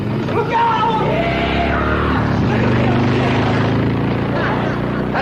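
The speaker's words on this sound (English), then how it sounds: "Some crazy kid is racing up down your driveway on a motorcycle." A motorcycle races up and down a driveway, its engine buzzing and droning steadily with shifting pitch, loud throughout the short stretch.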